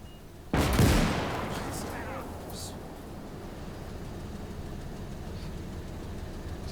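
Gunfire in the Gates of Hell strategy game, one sharp loud blast followed by a long rumbling decay, then a low steady engine-like drone with faint distant shots.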